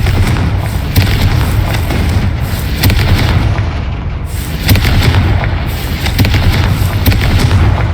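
Heavy booming blasts from a Confringo fire spell in Hogwarts Legacy burst repeatedly, loud and close over a dense rumbling game soundscape.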